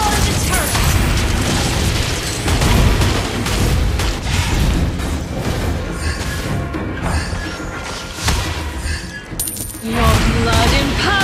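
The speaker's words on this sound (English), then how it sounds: "Your team destroyed a turret!" A turret is destroyed in a video game: loud booming crashes and crumbling mechanical clatter play under in-game voice lines and busy battle effects.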